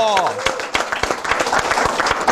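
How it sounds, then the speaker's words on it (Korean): Lecture-show audience breaks into clapping, distinct sharp claps becoming denser over a couple of seconds, while a host's voice speaks over the start. "그렇게 확신이 드시면 박수."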